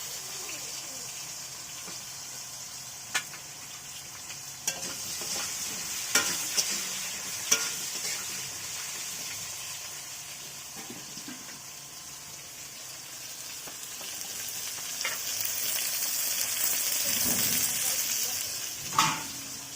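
Potatoes and long-cut ridge gourd sizzle and fry in a pan, with steady close frying hiss and occasional stirring scrapes and clinks.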